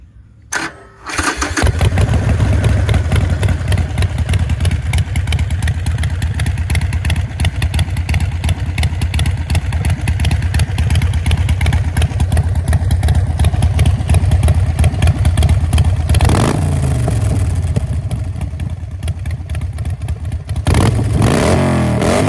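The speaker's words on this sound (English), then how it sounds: "start her up and let y'all get a taste of these juicy, juicy exhaust tones" A 2020 Harley-Davidson Sportster Iron 1200 motorcycle engine fires up and idles loudly and steadily for a long stretch, close by, with a brief blip of revving near the end.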